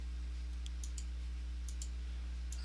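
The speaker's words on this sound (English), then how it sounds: "as soon as I click a mouse button, it tells me the point at which I click the mouse" Mouse button clicks on a computer, a few sharp faint ticks scattered over a steady low electrical hum, no voices.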